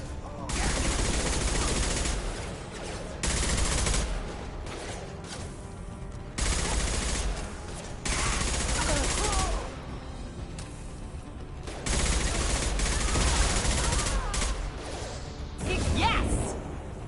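Rapid bursts of gunfire from a Mass Effect 2 firefight come in loud, sustained volleys that start and stop every couple of seconds, with short quieter gaps between them, mixed with game sound effects and some voices.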